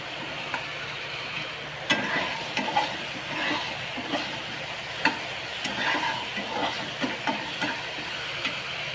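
Green peas frying with onion in a pan, a steady close sizzle with occasional stirring scrapes and clicks scattered throughout; no voices.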